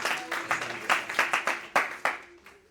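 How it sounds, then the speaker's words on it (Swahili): A church congregation applauds during a sermon, a burst of overlapping, loosely rhythmic hand claps that fill the hall and then fade. "Tushangilie Yesu kwa makofi."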